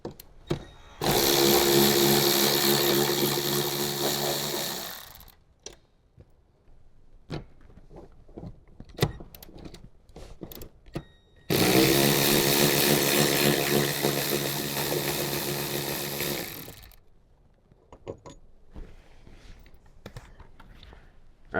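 A power tool, likely an impact driver or drill, runs in two long bursts of about four and five seconds while removing 14 mm seat bolts from a Toyota Tundra. Scattered clicks and handling noises fill the quiet gaps between the bursts.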